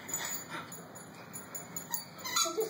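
A happy dog whimpers and lets out short yips, a string of thin, high whines and brief cries close by, with no one speaking over them.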